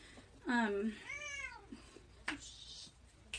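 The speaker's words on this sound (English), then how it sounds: "That's my cats arguing." Two house cats argue indoors with a loud drawn-out meow and then a rising, wavering yowl, followed by softer scuffles and short squeaks.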